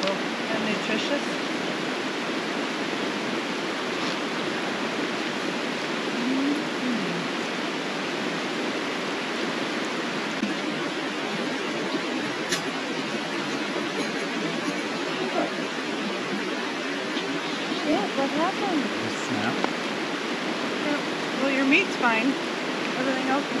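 A river flowing past a river bar, a steady loud rushing wash of water that fills the whole stretch, with occasional faint higher sounds on top.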